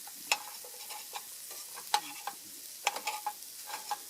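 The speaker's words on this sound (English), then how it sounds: "Yeah, just chop them up with a spatula." A spatula chops and stirs sausages in a hot pan at a camp cooking setup, with sharp scraping clicks and taps at an irregular pace over a soft, faint sizzle nearby.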